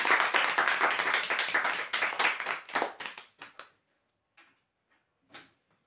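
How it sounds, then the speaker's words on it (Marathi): Audience at a prize draw event clapping loudly and steadily for a few seconds, then tapering into scattered final claps with brief silences between. "जोरदार टाळ्या होऊ द्या।"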